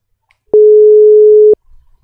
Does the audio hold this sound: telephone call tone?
yes